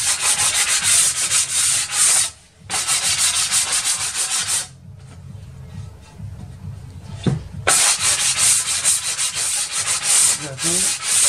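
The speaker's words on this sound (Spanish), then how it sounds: "Nuestra lija es del grano 100." Edge of a 6 mm tinted glass pane being sanded by hand with grit-100 sandpaper while fitting a fixed aluminium window: loud, close, steady rasping strokes in two long bursts separated by a quieter pause.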